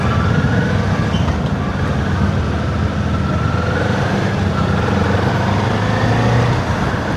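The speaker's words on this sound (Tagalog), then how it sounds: "Ay, grabe yung lakas na traffic" Heavy road traffic heard from a Kawasaki Z400 motorcycle: a dense, constant rumble of many engines and tires, loud and close, with a low hum running through it.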